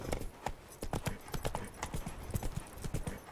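Roach, Geralt's horse in The Witcher 3, gallops with rapid, close, loud hoofbeats in a quick irregular rhythm, with a snort or whinny mixed in.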